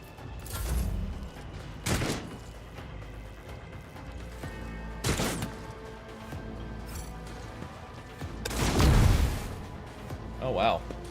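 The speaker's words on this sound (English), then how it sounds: "our neighbors are shooting off fireworks" Fireworks set off by neighbors outside boom and crackle in scattered bursts, some sharp and near, others duller, mixed with indoor voices and game sounds.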